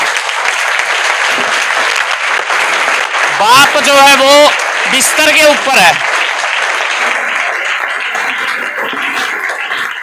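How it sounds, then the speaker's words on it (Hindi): An audience claps steadily and loudly for a farmer's mother at an award gathering, with someone talking over the applause partway through. "भाई एक बारी इस माँ के लिए जरूर तालियां होनी चाहिए"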